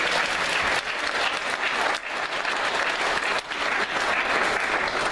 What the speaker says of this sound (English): can we get a round of applause for Dr. Mike?